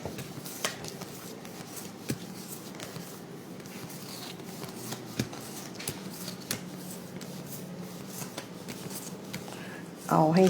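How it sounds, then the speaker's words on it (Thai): Large tarot cards are split and shuffled by hand, making soft papery riffles and slaps close by under a quiet voice, with a sharper burst at the very end. "แยกไพ่ก่อนแป๊บหนึ่ง"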